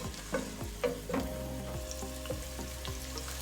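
A finely chopped medium onion sizzles in half a cup of hot oil in a pan. The frying hiss is steady, with a few light stirring clicks from a spoon, close and fairly quiet, and no voices.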